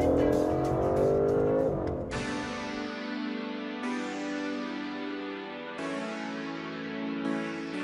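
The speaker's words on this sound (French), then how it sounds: "En mode sport plus, les clapets à l'échappement restent ouverts en permanence et du coup, ça chante." An Aston Martin DBS Superleggera in sport plus mode with its exhaust valves held open, the engine note climbing through a rising rev sweep, then stepping through several upshifts with sharp changes in pitch.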